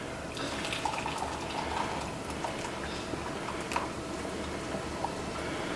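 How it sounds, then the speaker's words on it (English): Hot water runs and splashes steadily into a cooking pot, moderately loud and close, with faint clinks now and then and no voices. "I'm adding hot water in it"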